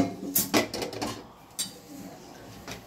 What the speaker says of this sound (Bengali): কড়াটা বসিয়ে দিলাম